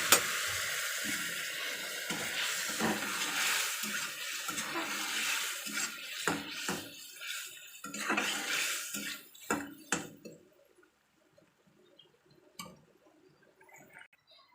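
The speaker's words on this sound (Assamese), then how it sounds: "এতিয়া দিম মই ইয়াত পানী।" Water poured into a pan of frying fish curry sets off loud sizzling and bubbling with stirring clatter, the hiss dying down to quiet near the end.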